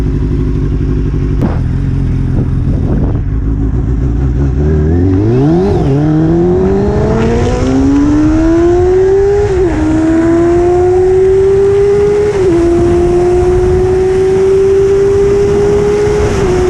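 A Suzuki GSXR 600 motorcycle on its first ride after purchase revs hard and climbs through the gears, its engine note rising in long sweeps with brief dips at the shifts, loud and close with heavy wind noise.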